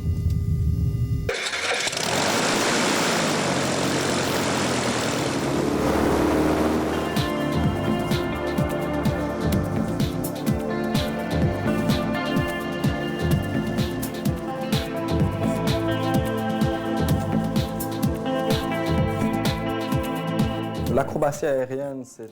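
An aerobatic propeller plane's engine starts with a burst of noise, then settles into a steady, loud drone with a throbbing pulse. It stays up close and dominant, and a voice talks over it.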